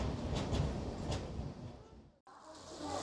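A late-running passenger train pulls into platform 3 at Sambalpur Junction, giving a loud, steady rumble and clatter of rolling stock that cuts out briefly near the end and then resumes.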